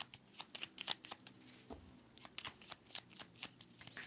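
Soft, rhythmic riffling of tarot cards being shuffled by hand, a steady series of close, quiet papery flutters with faint room noise and no talking.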